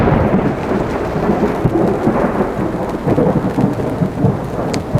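Thunder rolls through a Florida thunderstorm near Disney's Animal Kingdom, a deep, sustained rumble layered over steady heavy rain, loud and continuous for the whole stretch with no talking.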